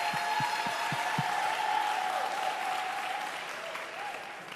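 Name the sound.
applause for an educator at a town hall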